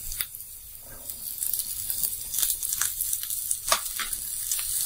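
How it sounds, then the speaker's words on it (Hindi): Peas tipped into carrots and other vegetables frying in a pan for rava upma, a close crackling sizzle that swells with bursts of spitting and a few stirring scrapes, no voices. "अब इसमें हम डाल देते हैं मटर"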